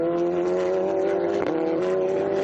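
Radical race cars roar down the front straight at Portimao during a heat race. A loud, sustained engine drone rises in pitch as a car passes, with no voices heard.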